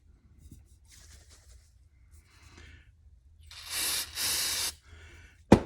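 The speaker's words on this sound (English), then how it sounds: "Now on the other surface is where I will use the spray." Two short hissing bursts of adhesive activator sprayed from a can onto wood, close by, follow some quiet handling noises, then a sharp knock at the end.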